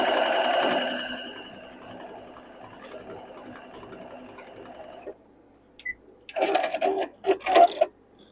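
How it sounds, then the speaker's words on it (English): Sewing machine stitching the final seam of a fabric circle for a sewing-room clock, a steady loud whir for about five seconds, then quieter short bursts of machine and handling noise. "now then we just turn this right like this and sew this one final seam to complete this circle"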